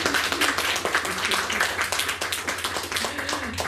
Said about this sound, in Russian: Аплодисменты массовые.